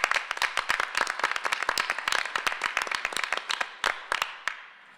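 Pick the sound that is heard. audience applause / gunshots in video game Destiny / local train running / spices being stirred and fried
audience applause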